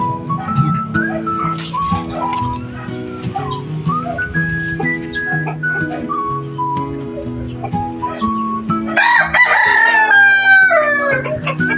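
Roosters crow repeatedly amid clucking chickens and other birds, with a burst of louder, overlapping calls near the end.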